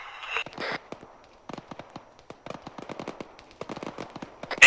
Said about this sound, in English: Incoming fire from the west, looks like technical fire.